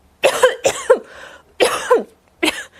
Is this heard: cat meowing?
no